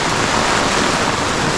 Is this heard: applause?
no